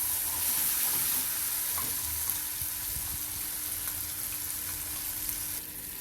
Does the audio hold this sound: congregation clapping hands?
no